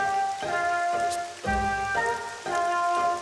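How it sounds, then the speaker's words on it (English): Steady rain patter in the Harina area of Bravely Second End Layer, a constant hiss running throughout, with a gentle musical score swelling and pausing on top. "Rain in Harina? Now that's something you don't see every day."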